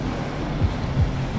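Strong waves at a river mouth in Calayo, Nasugbu, Batangas, a loud continuous rushing wash with wind buffeting the microphone and a few low thumps, no talk.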